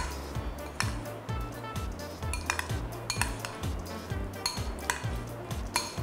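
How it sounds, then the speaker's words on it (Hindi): A spoon stirs cheese into a nacho mixture in a bowl, giving a steady run of clinks and scrapes against the dish in a fairly regular rhythm, close and moderately quiet, with no speech. "इसको हम अच्छे से मिक्स कर लेते हैं लाइक दिस"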